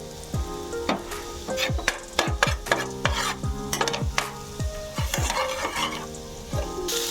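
Cornflour is stirred into a hot pan with sliced garlic for a white sauce pasta, with repeated scraping strokes of a utensil against the pan over a soft sizzle, close and clear.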